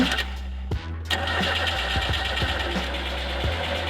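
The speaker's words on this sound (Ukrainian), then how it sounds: "двигун так і не завівся" A small radio-controlled model car engine cranks and sputters repeatedly with uneven bursts and clicks, struggling to catch but never settling into a steady run.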